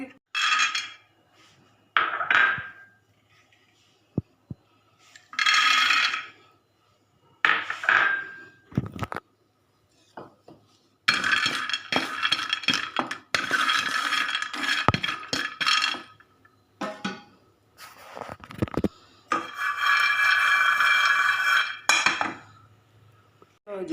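Peanuts and almonds are stirred while roasting in a pan, giving bursts of rattling, clinking metal-on-metal scraping that come and go in several loud spells separated by short quiet gaps.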